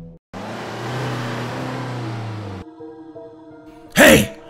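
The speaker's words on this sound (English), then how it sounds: "The car has arrived at the forgotten place" A car pulls up at a remote, abandoned place in an animated Vampire: The Masquerade graphic novel, its steady engine hum running for a couple of seconds before cutting off, followed by a sharp loud burst.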